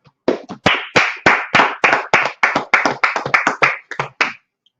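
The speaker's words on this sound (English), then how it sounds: "Clap it up" Rhythmic clapping from a few people, a steady run of sharp, close claps for about four seconds before it trails off into silence.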